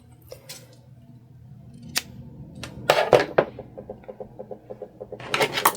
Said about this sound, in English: We're going to cut off these ends here.